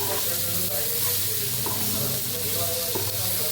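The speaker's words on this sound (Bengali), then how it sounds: "এটাকে আমরা খুব ভালো করে ভেজে নেব। এটাকে বলে আমরা ফ্রাই করে নেবো।" Dalia fries in a pan with a loud, continuous sizzle and a few soft stirring scrapes, close by and steady throughout.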